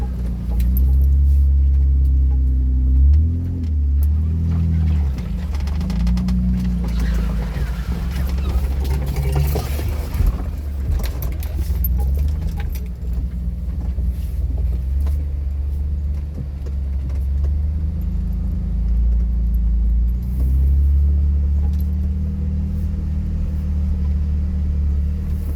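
A 2001 400 EX ATV engine rumbles steadily during mud racing, a deep continuous drone with shifts in pitch as the throttle rises and falls, loud and close throughout.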